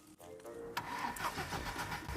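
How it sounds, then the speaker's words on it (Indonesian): A car engine cranks over and catches during a start attempt on a found police car, the rough mechanical churn rising into a steady running rumble, close and loud with no talk. "Mesinnya berputar, jadi sekarang kita akan memperbaikinya entah bagaimana dan menyalakan mesinnya."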